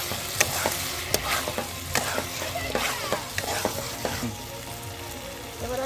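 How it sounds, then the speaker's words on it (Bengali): Paneer that was fried earlier and peas are stirred and sautéed in a pan for a matar paneer curry. Steady sizzling runs throughout, with repeated sharp scrapes and clinks of a spatula against the pan. No one speaks. "পনিরগুলো দিয়ে ভালো করে কষে নিয়ে তারপর আমি জল দিয়ে দেবো"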